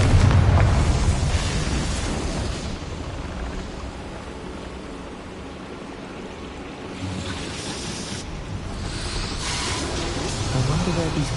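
A Confringo fire-blast spell in Hogwarts Legacy on PS5 goes off as a loud, rumbling explosion with a broad burst, then settles into a sustained roar with a second surge near the end.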